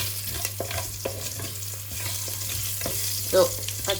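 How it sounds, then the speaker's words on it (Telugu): Green chilies frying in a small amount of oil in a pan, a continuous close sizzle with occasional stirring clicks and a low steady hum beneath, no one speaking. "పచ్చిమిర్చి వేగే వరకు మనం వేపుకోవాలి"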